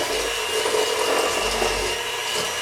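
Electric mixer creaming butter and sugar in a kitchen, a loud, steady whirring motor drone with a slightly gritty edge, continuous and close, with no talking.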